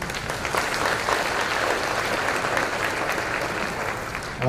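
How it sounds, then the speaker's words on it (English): A crowd at an early childhood summit gives a round of dense, steady applause, heard from within the hall at moderate level for a few seconds. "Give them a round of applause."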